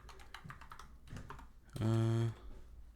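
Typing on a computer keyboard, a few quick soft keystrokes in short bursts, close and quiet, interrupted by a brief hum.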